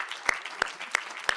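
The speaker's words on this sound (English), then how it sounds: "give her another great big round of applause" Audience clapping at an anniversary celebration, heard as a brief spell of four or five distinct, evenly spaced claps rather than a full crowd ovation.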